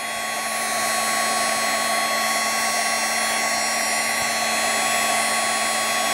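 A heat tool blows hot air across the edges of a stamp storage piece to melt leftover tape. It gives a loud, steady whooshing whine with a constant hum, close and unbroken from start to finish.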